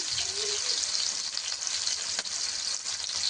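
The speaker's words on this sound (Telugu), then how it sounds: "కరివేపాకు ఇప్పుడు మంచిగా ఫ్రై చేస్తుంది ఇందులో" Chopped ginger, onion and green chillies frying in oil for veg manchurian, a bright continuous crackling sizzle close up, with a brief stir or scrape partway through.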